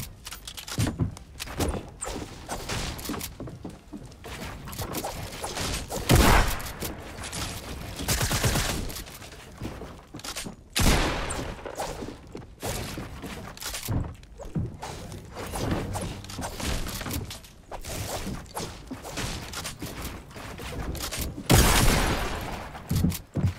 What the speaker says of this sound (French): Il me tire dessus avec quoi celui-là?